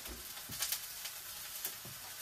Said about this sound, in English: now I dump in the pak choi that I have diced up